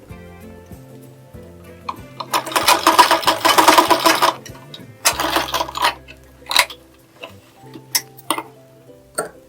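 A sewing machine stitches a blouse sleeve, running in a dense mechanical burst, then in shorter clattering runs and isolated ticks, close and loud.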